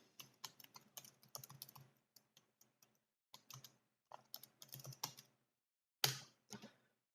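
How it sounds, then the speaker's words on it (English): Bursts of rapid typing on a computer keyboard, close and crisp, with short pauses between runs of clicks and one sharp louder clack near the end. "And you can type in whatever you want."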